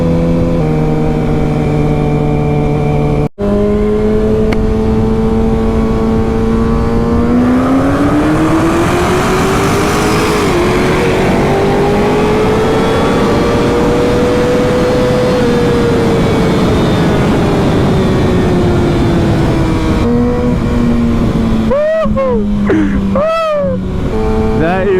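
A fast car accelerates in a long, continuous run, its engine note climbing and falling as it revs, loud and close throughout, with a brief click near the start and some crackling toward the end.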